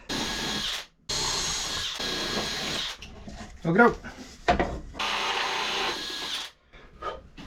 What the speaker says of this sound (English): Drilling very slowly to try and minimize tear out on the other side.